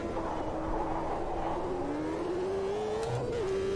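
A 1990s race car engine in the Automobilista 2 racing game holds a steady, rising drone as it pulls up through the revs, loud and continuous with no talking.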